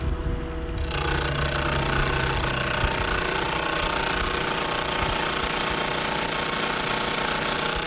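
A milling machine takes side milling cuts on a small part clamped in a little vise during a squareness comparator build, giving a dense, steady, loud grinding chatter that runs unbroken throughout.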